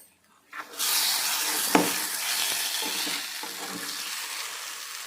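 White eggplant curry with cashew powder sizzles in a pan while a spoon stirs it, giving a steady frying hiss with scraping strokes and a few clinks, close and fairly loud.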